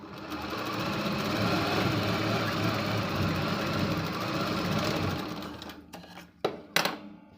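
A sewing machine stitches a four-tuck blouse sleeve, its motor whirring loud and steady for several seconds before stopping, followed by a few sharp clicks and knocks of the machine.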